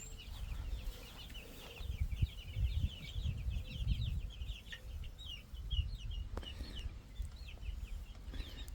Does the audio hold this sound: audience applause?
no